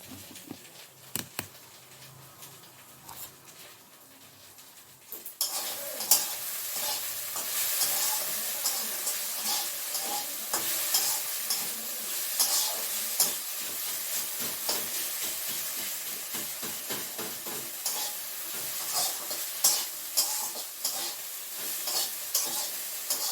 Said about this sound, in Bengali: ভেন্ডি ভাজাটা হয়ে গেছে